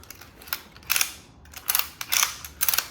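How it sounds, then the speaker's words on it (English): A retractable ratchet strap is cinched tight in several short bursts of clicking ratcheting, each lasting a fraction of a second, with brief pauses between them and no talking. "you just start to cinch it up"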